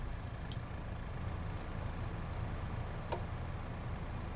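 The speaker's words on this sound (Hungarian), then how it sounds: "hagyj járjon a motor" A tractor engine idles steadily in Farming Simulator 22, a low continuous rumble running throughout with a couple of faint clicks on top.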